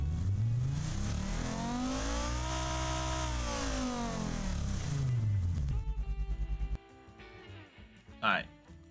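Car engine from the Automation car-building game, revving up and sweeping back down in one long smooth arc, then a stuttering, rapidly pulsing idle before falling quieter, with a brief sharp burst near the end.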